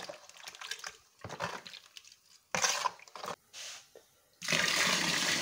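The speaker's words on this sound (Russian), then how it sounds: "Наливаю воду прямо из-под крана." Bursts of unboiled tap water splash into a container of grapes for homemade wine, stopping and starting several times, with a long steady pour at the end.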